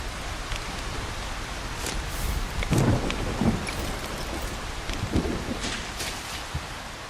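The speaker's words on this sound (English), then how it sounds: "it looks like they give you plenty of warning where the lightning's gonna hit" Steady rain hisses through a thunderstorm in the Solarpunk game, with low rumbling thunder and crackling strikes swelling midway, continuous and fairly close with no talk.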